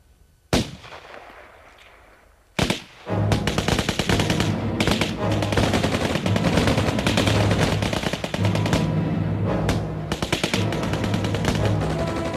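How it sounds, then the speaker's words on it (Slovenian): Wartime partisan battle at a camp on Pohorje: after a lone loud shot, sustained rapid gunfire with machine-gun bursts and heavy volleys erupts and continues densely, loud and close, with no speech. "Okrog 3:45 je padel, verjetno s partizanske strani, prvi strel."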